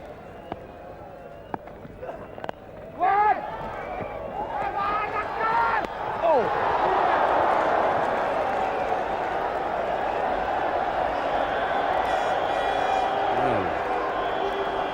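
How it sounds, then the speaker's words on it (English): Crowd in the Cricket 1999 game during a World Cup match between Pakistan and West Indies, swelling into a sustained roar of cheering after a few sharp knocks, loud and steady for several seconds. "Section of the crowd think the match is over."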